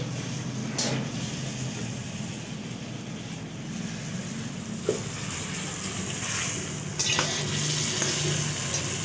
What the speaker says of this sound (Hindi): चलिए चिकन हो रहा फ्राई, अच्छी तरह से इसको फ्राई करेंगे।